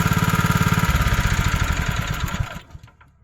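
A car engine runs with a close, loud, rapid rhythmic throb, then is switched off and winds down into quiet near the end, with no talk.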